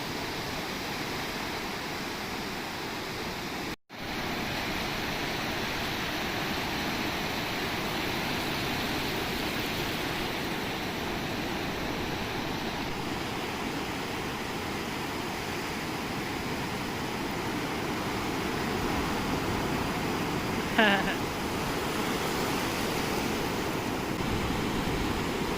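Steady broadband wash of ocean surf at Tofino, a continuous roar of breaking waves heard from the shore, with a brief dropout early on and a faint chirp near the end.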